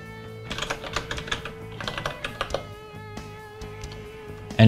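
Computer keyboard typing as a Linux touch command is entered in a terminal: quick bursts of soft, close key clicks with short pauses between words and a sharper keystroke at the end.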